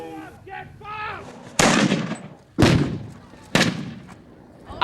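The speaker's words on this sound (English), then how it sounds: "then a 21-gun salute" Artillery fires a 21-gun salute at a ceremony for Richard III lying in repose in Leicester. Three loud, sharp booms ring out a second apart, each with a rolling echo, after a brief moment of voices.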